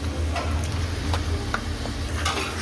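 About 1.25 kg of washed, dried raw chicken goes into hot oil for a Karnataka chicken curry, giving a low steady sizzle broken by a few light scrapes and taps of stirring, close and fairly quiet.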